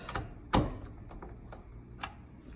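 Bolts on the passenger-side mirror of a 2004 Saturn Vue are loosened with a ratchet, giving a sharp close click followed by a few lighter ticking ratchet clicks, with no talking.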